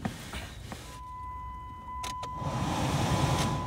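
Rear blower motor of a 2005 Dodge Grand Caravan 3.8L, running after a resistor replacement: a few faint clicks, then a steady motor whir that swells and holds close and continuous, with no talking.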